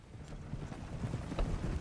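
Horse hooves clip-clopping in the Red Dead Redemption video game, a quick, steady run of hoofbeats close by at moderate loudness with a low rumbling background.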